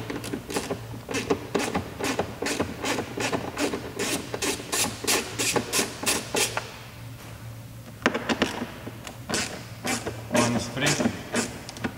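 Screws, 7 mm, being worked out of a Volvo XC90 door panel, a close series of rapid rhythmic rasping and ratcheting bursts with short pauses between them, while someone talks.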